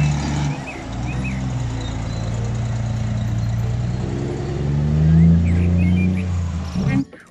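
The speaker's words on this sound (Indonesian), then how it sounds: "Wah, ada truk kontainer gandeng." A container truck pulling a trailer rumbles past with a low, steady engine drone that swells toward the end, then cuts off sharply.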